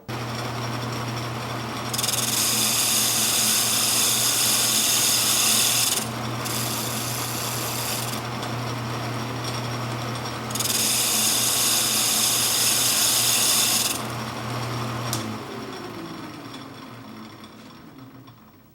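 A lathe turns a glued-up wooden banjo rim blank, its motor humming steadily while a cutting tool scrapes the spinning wood in loud rasping bursts, then the machine winds down near the end.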